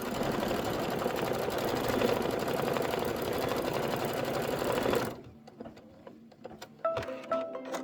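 Embroidery machine rapidly stitching a placement line on fabric, a loud continuous mechanical chatter for about five seconds before it stops, leaving scattered small clicks and taps.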